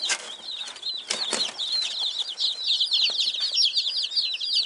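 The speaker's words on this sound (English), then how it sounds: "Hey, little chickens." Young chicks and chickens cheep, cluck and flap their wings in a busy coop, a steady stream of high chirps with a few sharp wing flutters, close up and without talk.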